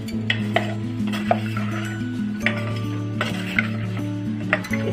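A spoon stirs a green mango (kairi) mixture in a pot, scraping and clinking steadily against the metal over a constant low hum, close and fairly loud with no talking.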